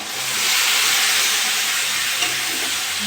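Mixed vegetables go into a hot pan of shrimp and spices for a Bengali chorchori. A loud, continuous sizzling hiss holds steady and close for the whole moment, with no one speaking.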